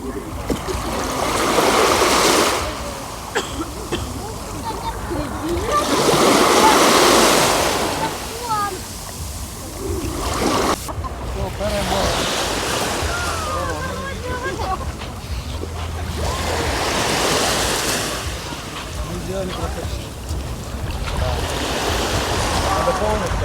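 Sea waves wash onto the shore after a storm, swelling and receding in slow surges with a steady roar, and faint voices are heard underneath.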